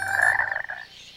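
A single drawn-out frog croak sounds close and clear, then fades out.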